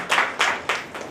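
Audience applause at a Women's Day award ceremony on 8 March 2024 comes as four quick, fairly loud bursts of clapping close together within about a second.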